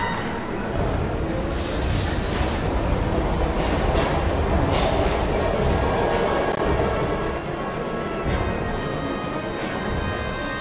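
Train in the video game Heavy Rain: a continuous heavy rumble with periodic clattering wheel knocks, steady and fairly loud throughout.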